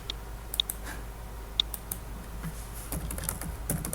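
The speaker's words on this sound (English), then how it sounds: "I've clicked on Google Chrome and I'm going to type localhost." Light, sparse keystrokes on a computer keyboard, a handful of isolated clicks spread over a quiet background, busier typing toward the end.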